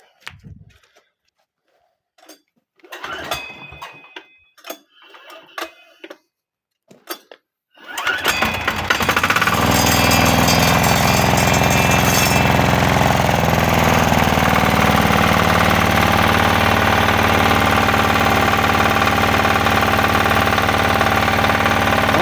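A walk-behind tractor (motoblock) engine cranks after a few quiet knocks and handling noises, then catches and runs loud and steady, a continuous close mechanical drone that holds to the end.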